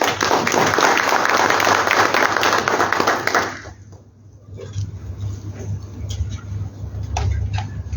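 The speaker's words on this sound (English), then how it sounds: "give him another round of applause" An audience at a residents' council service delivery conference bursts into loud sustained applause, dense clapping that fades out after a few seconds, leaving room noise and a few scattered claps.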